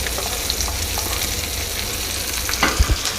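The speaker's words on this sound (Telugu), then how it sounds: "ఇప్పుడు నేను కట్ చేసి ఉంచిన దొండకాయ ముక్కలు వేసి వేయించుకుంటున్నాను." Pieces of ivy gourd sizzle steadily in hot oil in a pan, a close, continuous frying hiss with a few louder pops and stirring scrapes near the end, and no voices.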